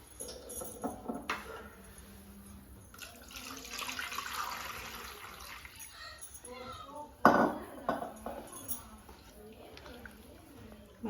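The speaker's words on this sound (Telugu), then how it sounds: "మళ్ళీ కొద్దిగా నీళ్లు పోసి" Water is poured a little at a time into soaked tamarind for a Telugu-style fish curry, a brief splashing burst amid clinking utensils in a kitchen, with someone talking over much of it.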